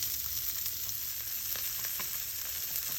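Pieces of beef fat frying in a pan for a Florentine steak give a steady, close, even sizzle with light crackles and a few faint stirring touches, and no voices.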